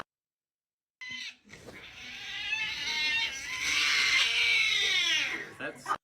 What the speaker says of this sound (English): that cat looked like he in pain